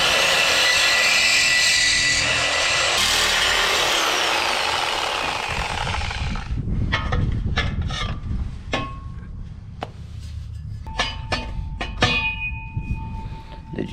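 A power tool, likely a reciprocating saw, cuts loudly and steadily through a truck's exhaust resonator for about six seconds, then stops, leaving scattered clanks and knocks.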